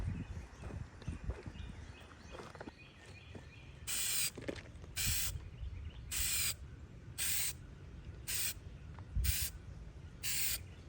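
Aerosol cans of Plasti-Dip spraying a thick coat onto a car's chrome trim, heard as a string of sharp hissing bursts about a second long, separated by short pauses.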